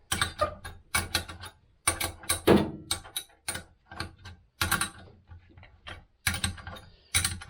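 A ratchet wrench loosening a bolt on a shock absorber of a Peugeot 106 GTI, with repeated bursts of quick clicking pawl strokes separated by short pauses, close and fairly loud.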